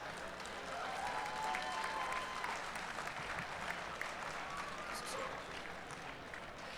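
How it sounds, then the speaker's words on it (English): Crowd applause fills a fight-promotion arena after a three-round bout, a steady wash of clapping and cheering with scattered shouts throughout. "please bring the applause for this amazing contest"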